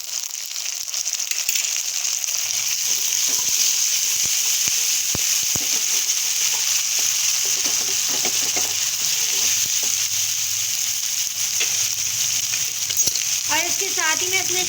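Ginger garlic paste sizzles steadily in hot oil in a pan for a red kidney bean and black-eyed pea curry, a continuous close frying hiss with faint stirring and a brief voice near the end.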